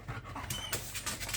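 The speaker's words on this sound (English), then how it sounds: "Let Woody bark" A dog's short vocal bursts, panting and whimper-like sounds, close and fairly loud, coming in quick uneven pulses over a few seconds outdoors where a young bear has come near the trash.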